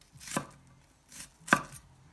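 Kitchen knife cutting an onion on a board, two separate sharp chops with soft slicing between them, close and clear in a quiet room.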